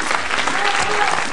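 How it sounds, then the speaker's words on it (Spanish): Brief, steady burst of audience clapping at a dance presentation, a dense even patter from a crowd heard close and fairly loud. "aplauso."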